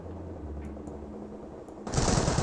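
A .30 cal machine gun in the Company of Heroes video game bursts in near the end, a sudden loud rattle of rapid shots following a quieter stretch of ambient game sound.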